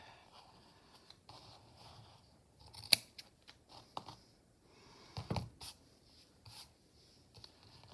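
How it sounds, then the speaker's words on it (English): Quiet, scattered snips and clicks of scissors cutting yarn for tassels, with brief rustles and handling noises between the cuts; no talking. "I'll get my scissors."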